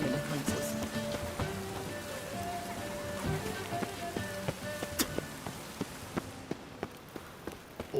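Rain falling in The Witcher 3 video game, a steady patter with scattered louder drops and distinct tapping hits, accompanied by tonal in-game sounds and no talk.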